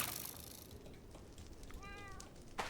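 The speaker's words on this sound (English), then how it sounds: "Why do I hear a cat?" A cat meows once inside the Minecraft game, a short rising harmonic call near the end, heard at low level over faint game background noise without speech.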